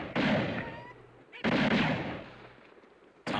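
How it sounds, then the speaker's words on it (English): A Thompson submachine gun fires in the 1970 war film Patton, heard as two loud close bursts of rapid gunfire, each ringing out and fading, with a third burst starting at the very end. "Tommy gun, man. The Thompson."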